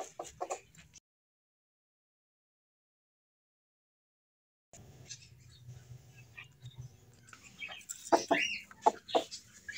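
A hen clucks in short bursts as she is set onto a clutch of eggs, with a gap of silence early on and louder, closer clucks near the end.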